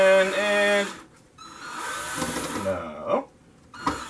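Power drill driving a self-tapping screw into a 1/700 scale Trumpeter Dreadnought model, a short close whine that rises and drops in pitch, then stops within a few seconds.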